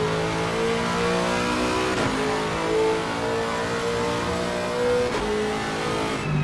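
A Lexus RC F race car at Monza in a racing game: a loud, continuous engine note that climbs through the revs, with two brief dips at gear changes, heard alone.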